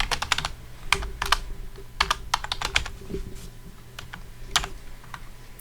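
Typing on a computer keyboard while entering a virtual machine name during a CentOS install in VirtualBox; bursts of close, crisp keystrokes in quick clusters separated by short pauses, with no talk.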